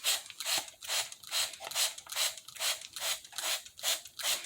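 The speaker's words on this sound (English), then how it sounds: "So I'm just giving them a spray." A handheld spray bottle mists water onto a terrarium in about nine quick, evenly spaced hissing squirts, close and clear, with no talking.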